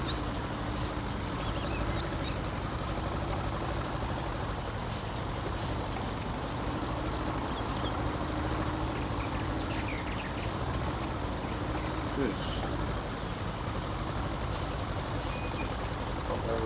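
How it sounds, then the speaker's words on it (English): A small tractor pulling a rake in Farming Simulator 19 drones steadily at low pitch, with faint beeps and bird calls in the background and a voice speaking over it at times. "We've got a small rake and a small tractor."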